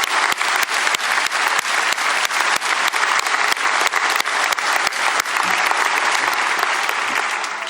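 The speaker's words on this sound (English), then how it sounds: "Another round of applause for that." Loud, sustained applause fills a high school graduation ceremony audience after a senior performance, dense clapping from a large crowd holding steady from start to finish.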